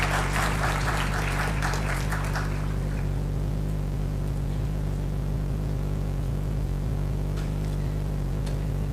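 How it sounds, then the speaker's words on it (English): A room's audience applauds at a justice symposium, loud clapping for the first few seconds that fades to scattered claps over a constant low electrical hum. "Please welcome Dr. Rina Koenka with a round of applause."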